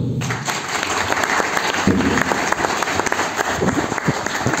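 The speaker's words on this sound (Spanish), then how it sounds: "Un aplauso, hermanos." A church congregation claps after officers are introduced at a Christian center gathering, loud dense applause filling the whole stretch with a few sharper claps standing out.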